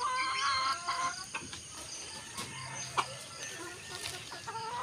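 Rhode Island Red chickens cluck and murmur at moderate distance, with soft irregular calls and a few sharper notes over a quiet outdoor background.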